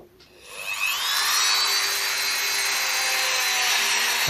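A power tool whirs up to speed to clean out threaded holes in a ZZR600 part, then holds a steady, close, whining grind with a faint scraping edge and no talking.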